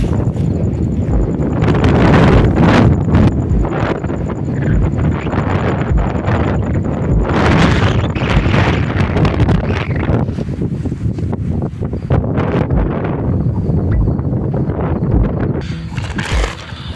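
Strong wind buffets the microphone at a mountain campsite in Dong Valley, Arunachal Pradesh, a loud, rough, gusting roar that swells and dips continuously.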